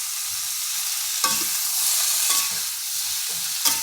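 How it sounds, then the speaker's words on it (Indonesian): Young papaya tossed into spice paste frying in a pan, a steady bright sizzle with the scrape and clatter of stirring at intervals, close by, with no voices. "Iki katese dicemplungne"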